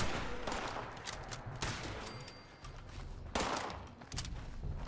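Rapid pistol gunshots in the video game Fallout 76, a dense volley of sharp cracks that repeat closely, fairly loud and alone without talk.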